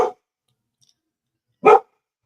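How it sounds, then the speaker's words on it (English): A dog barks twice in a quiet room, two short, sharp, close barks separated by a second and a half of silence. "She'll bark about it"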